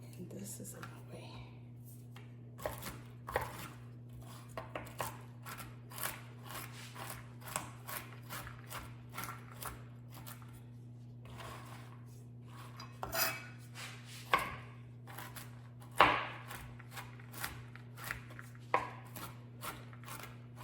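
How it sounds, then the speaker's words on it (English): Nuts being chopped on a board for holiday pie gifts, a knife tapping in short irregular bursts close to the mic, accompanied by quiet talk and a steady background hum. "So I'm just gonna do a little chop."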